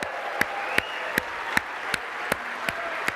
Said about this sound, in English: I want to hear a big clap for their partners